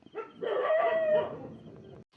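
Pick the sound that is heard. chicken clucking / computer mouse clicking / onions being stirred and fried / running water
chicken clucking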